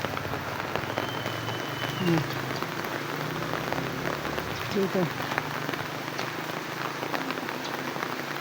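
Steady rain falls outdoors and patters continuously on surfaces, and a person talks briefly over it.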